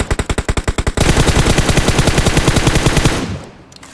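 Rapid automatic gunfire in PUBG Mobile: about a dozen distinct, evenly spaced shots, then a dense continuous burst of firing that fades away at the end. The shots are loud and close, with no voices.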